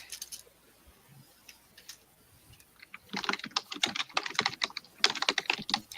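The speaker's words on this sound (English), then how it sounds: "I hear her typing." Someone types on a computer keyboard during an online Spider-Jeopardy game, with quick irregular clicks that start after a quiet stretch and continue in bursts to the end, fairly close and with no talking.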